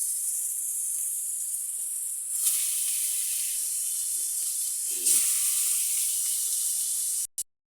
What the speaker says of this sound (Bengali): এবার মাছ ভেজে নিচ্ছে।